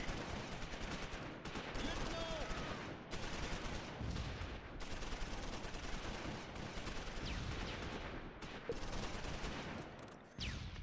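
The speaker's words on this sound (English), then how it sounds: "it looks like rifle grenades are being fired from here" Rifle grenades and small-arms gunfire crackle through a Close Combat battle, a dense stream of overlapping shots and bursts that carries steadily for the whole stretch with brief lulls, loud and continuous.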